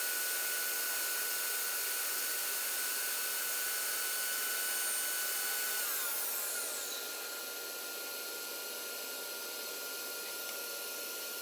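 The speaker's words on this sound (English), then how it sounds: "get my table saw back to a regular setting to do a chamfer down the sides" A table saw runs with a steady, bright whine while cutting a chamfer along the sides of a board. The tone shifts slightly partway through, and no one speaks.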